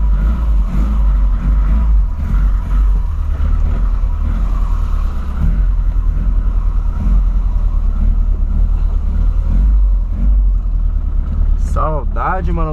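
Engine of a boxy older Volkswagen Voyage heard from inside the car, a steady low rumble and drone running throughout with someone talking over it.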